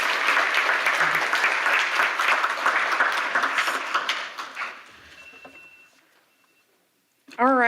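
An audience at a public meeting on food access applauds loudly for about five seconds, the clapping thinning and dying away before a speaker's voice returns.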